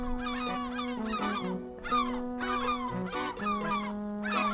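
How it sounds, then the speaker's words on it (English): A seagull in the video game Lucy Dreaming gives a series of loud, harsh honking calls in quick bursts, close and clear with no talking. "Not while the gull's sitting on top of it."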